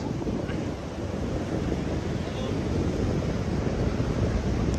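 Steady rumbling roar of wind and rough surf on a Goa beach in the morning, broad and continuous throughout, with no clear breaks between waves.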